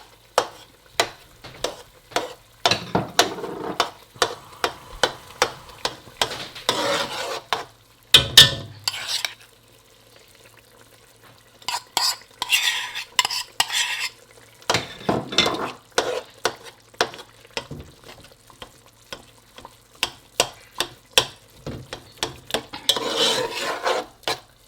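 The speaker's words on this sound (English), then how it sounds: "this is me putting my egusi in" Ground egusi melon seed is stirred into freshly fried peppers, giving repeated scraping and stirring strokes with sizzling underneath, in rhythmic bursts separated by short pauses.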